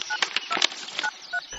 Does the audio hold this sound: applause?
no